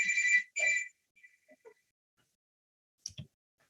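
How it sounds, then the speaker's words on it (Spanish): A phone rings in a quiet room, two loud electronic ring bursts in quick succession, then a few faint clicks and a brief soft rustle. "me suena el teléfono"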